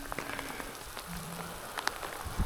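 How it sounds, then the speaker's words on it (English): Steady rain patters down on a bicycle tourist riding the TransAmerica Bicycle Trail, a close, even hiss with scattered drop ticks and no voices. "Well, I got caught in the rain"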